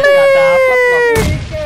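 A grenade explosion in PUBG Mobile bursts once, loud and sharp, near the end, cutting across a steady high tone and leaving a short rumbling tail.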